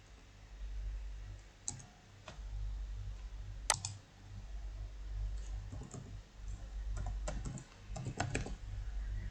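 Keys tapped out on a computer keyboard while a password is entered, giving irregular bursts of close clicks and clacks with short pauses between them over a low steady hum, and no talking.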